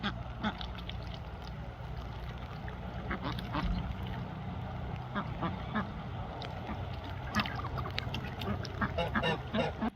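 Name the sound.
male duck (drake) rasping instead of quacking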